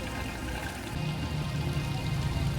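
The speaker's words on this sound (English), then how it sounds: "This water is very warm and is steaming as it makes its way into the pool of water." Warm, steaming hot spring water flows steadily into a pool in a town of hot springs, a continuous near pouring and trickling rush that grows slightly fuller partway through.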